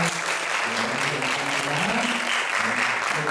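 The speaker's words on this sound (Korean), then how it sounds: "와주셔서 감사하다고 박수 한번 주세요." A church congregation claps during a Sunday worship service, welcoming newcomers; steady, dense applause fills the whole stretch alone, with a faint low tone underneath.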